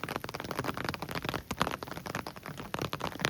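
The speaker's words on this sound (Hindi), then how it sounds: "बारिश की बूंदें गिरने लगी हैं, आप देख सकते हो" Monsoon rain in the mountains, a steady patter of raindrops falling nearby, continuous and dense with scattered sharper drop hits, no voices.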